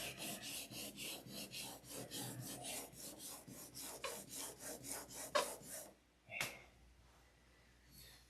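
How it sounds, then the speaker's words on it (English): Hand sanding on wood, likely a model aircraft being trimmed, with steady rhythmic rasping strokes repeating for about six seconds, then a pause and a single louder scrape, close and clear with no talking. "Rub, rub, rub. More rubbing. Sanding."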